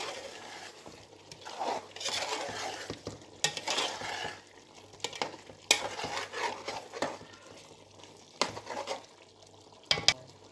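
Chicken biryani cooks in a pot and is stirred with a spoon, giving bursts of scraping and clinking against the metal over a soft background sizzle, close and intermittent.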